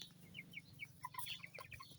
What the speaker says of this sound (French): Après, nous avons de jolies poules bleues aussi.